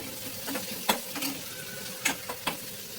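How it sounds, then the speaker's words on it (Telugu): Dried red chillies and curry leaves sizzle in hot oil in a pan while being stirred, giving a steady frying hiss with a few soft scraping stirs. "కరివేపాకు ఇది కలుపుకుంటూ ఉండాలి ఎందుకంటే అది మాడిపోతే టేస్ట్ వేరేగా వస్తుంది"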